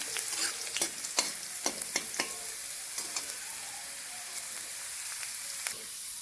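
Garlic sizzles in a pan while a utensil scrapes and stirs it, the hissing fry constant underneath and a series of sharp scraping clicks coming irregularly on top, close up with no talking.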